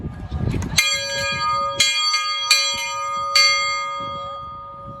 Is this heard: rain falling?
no